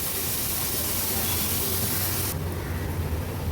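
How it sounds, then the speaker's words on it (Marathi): Chutney sautéing in oil makes a dense, steady hiss that softens slightly partway through, heard alone with no talking. "आणि आता ही चटणी तेलावर अगदी मिनिटभरासाठी थोडी परतून घ्यायची आपल्याला"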